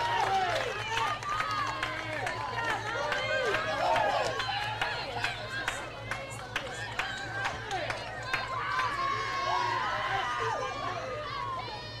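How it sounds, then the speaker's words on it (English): Cheering from the crowd and dugout at a college softball game, excited shouts and whoops rising over a steady background hum, with a commentator talking throughout. "The dugout and the crowd all fired up about that."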